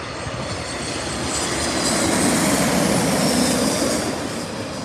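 An airliner lands at LAX, a broad jet roar that swells to a peak mid-clip and eases slightly toward the end, heard fairly close with no talk.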